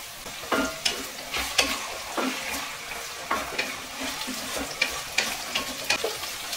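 Chopped tomatoes go into onions frying in a pan for a village-style egg curry, with a steady close sizzle broken by repeated scraping stir strokes and light clatter throughout.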